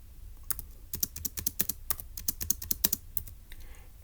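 Puzzle answer typed on a computer keyboard, a quick run of crisp, clicky keystrokes in irregular bursts, close and clear with no talking.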